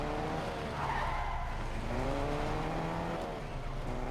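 Cars drifting with sustained tire skids and squeals in Fortnite Creative, wavering engine tones layered under continuous loud screeching across the whole stretch, no talking.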